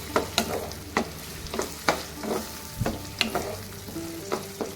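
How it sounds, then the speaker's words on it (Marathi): Onions frying in a pan for a country chicken curry, stirred with a spoon that scrapes and taps at a steady rhythm over a low continuous sizzle, close and moderately quiet. "आता आपला कांदा ना आपल्याला आणखीन थोडा शिजवायचा आहे सोनेरी रंग हे येईपर्यंत चांगला शिजवून घ्यायचा"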